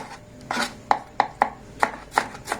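Knife chopping an onion on a cutting board, about seven distinct sharp chops at an uneven, steady pace, close and clear with no voices.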